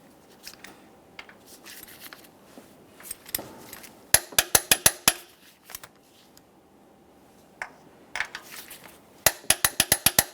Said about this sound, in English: For the next 3 pieces of mounting hardware, we're going to be torquing these to 61 foot-pounds